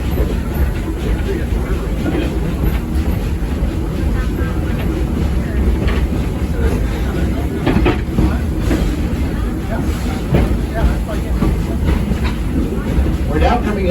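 A railroad train on the Edison line rolls along its rails in a continuous loud rumble with rhythmic clickety-clack from the wheels, heard from on board the moving carriage.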